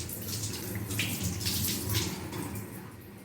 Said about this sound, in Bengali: চলো মাছটা ধুয়ে আসি।